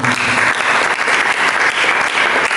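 Church congregation applauding during a sermon, a loud, dense and steady wash of many hands clapping throughout, with no voice heard over it.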